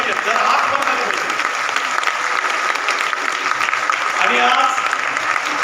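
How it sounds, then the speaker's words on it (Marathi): Loud, steady applause from a crowd of women at a Lokmat Sakhi Manch haldi-kunku gathering fills the whole stretch without a break, with a voice speaking over it. "एकदा जोरदार टाळ्या आपल्या सगळ्या सखींकडनं झाल्या पाहिजेत"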